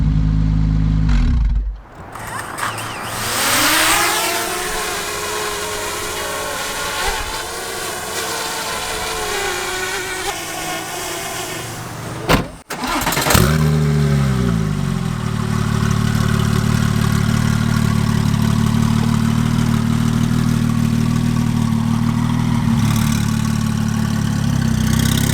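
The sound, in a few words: straight-pipe Porsche 911 Turbo exhaust revving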